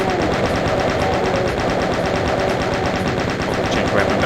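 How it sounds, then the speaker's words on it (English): Rapid, continuous chain gun fire from the 1993 Doom video game, loud and steady throughout with dense repeated shots and no pauses, game music and effects underneath. "Just stay with the chain gun."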